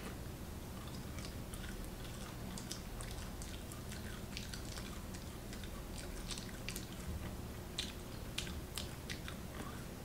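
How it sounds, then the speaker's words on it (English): Someone chews a raw green chickpea pod, producing a steady run of close, moist crunching and squishing bites over about ten seconds, with no talking. "It's like chewing on a piece of plastic."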